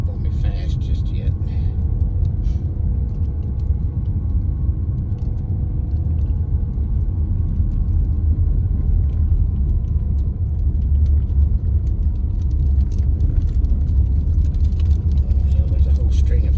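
A car's steady low road rumble on the Wolf Creek Pass mountain road, continuous and fairly loud throughout, with someone talking over it.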